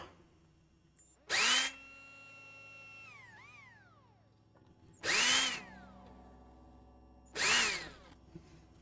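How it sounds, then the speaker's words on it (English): A power drill whirs in three short bursts, loud and close, with quieter mechanical whine and pauses between them, drilling a new hole while installing a guitar tremolo backstop and stabilizer. "I'm just gonna drill a new hole further up."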